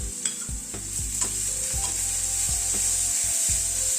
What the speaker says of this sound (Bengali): পেঁয়াজটাকে ধীরে ধীরে ভেজে নেব।